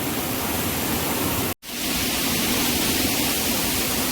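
Water rushing at the source of the Kasari river near Pawankhind, a loud steady broadband roar that cuts out for an instant and resumes.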